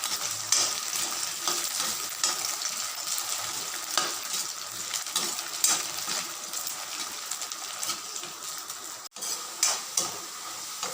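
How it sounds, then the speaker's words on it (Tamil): Colocasia (taro root) chops frying in a hot pan, a steady moderate sizzle with intermittent scrapes and taps of a spoon stirring the pieces, and one sharp click near the end. "இதை நல்லா ஃப்ரை பண்ண போகிறோம்."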